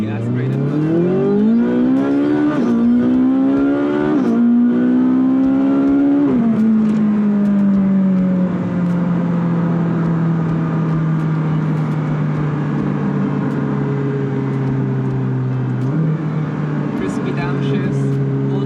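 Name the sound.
Ferrari 458 Speciale naturally aspirated engine revving, stock exhaust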